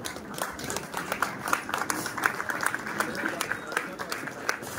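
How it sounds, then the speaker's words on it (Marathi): An audience gives a standing ovation to the organizing committee at the closing ceremony of a Navratri music festival in Miraj, with dense, continuous clapping close by and voices mixed in beneath. "सर्व मिळून आपण उभं राहून या संचालक मंडळाला टाळ्या वाजवून त्यांचं आपण अभिनंदन करूया"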